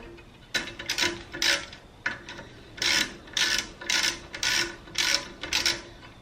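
A ratchet wrench tightens two 12mm bolts on a Suzuki brake caliper, giving a loud close run of rhythmic clicking bursts, about a dozen quick strokes in a steady pattern with brief pauses between them.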